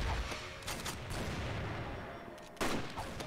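R93T2 sniper rifle firing in the game CrossFire, a few sharp heavy shots with rumbling tails over low background noise, one loud close report near the end.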